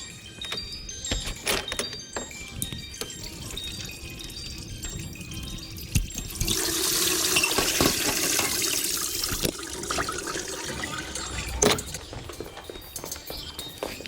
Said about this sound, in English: So the water is going to rush out.